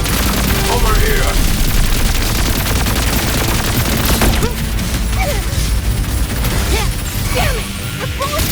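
Gunfire erupts in the Wuthering Waves game: dense bursts of shots and booming impacts with crashing debris, loud and continuous, then sporadic rattling shots over a chaotic battle din, with voices speaking intermittently underneath.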